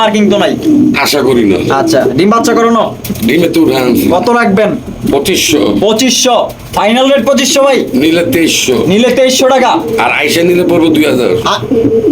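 Lakha pigeons coo softly in the background while someone talks loudly and almost without pause.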